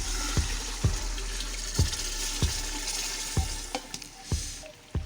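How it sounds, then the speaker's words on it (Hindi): Vegetables for matar pulao sizzle steadily in ghee in a pan, with a constant frying hiss broken by sharp periodic clicks and taps of stirring. "सब्जियां हमारी भुन रही हैं। ये देखें घी छोड़ना शुरू कर दिया उन्होंने।"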